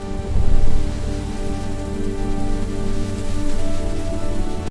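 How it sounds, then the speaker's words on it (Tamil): Heavy rain pours down in a dense, steady roar, loud and continuous with no pauses. "கடும் மழையும் பனியும் பெய்யத் தொடங்கின."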